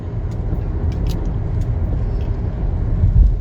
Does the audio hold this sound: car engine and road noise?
yes